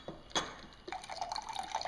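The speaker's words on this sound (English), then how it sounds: "And I'll add a little water, and we should be good." Water is poured into a glass of honey and apple cider vinegar drink, a few soft drips and then a light, trickling pour close by.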